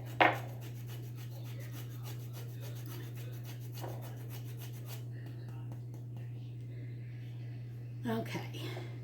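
A fresh lemon is zested for a lemon meringue pie, producing soft, repeated rasping scrapes, close and faint, over a steady low hum. A sharp knock opens and closes the sequence.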